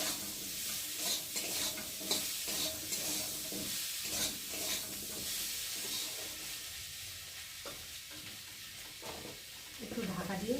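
Potatoes fry in a pan with chili powder and spices while being stirred, producing a dense sizzle interrupted by repeated scraping and knocking of a spatula against the pan, close and moderately loud.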